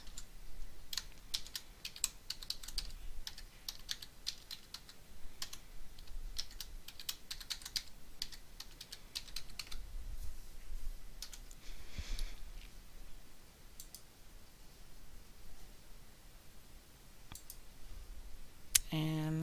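Keys clicking as a password is typed on a computer keyboard during a lab system installation, with rapid bursts of close keystrokes spread through a quiet room and some soft pauses between runs.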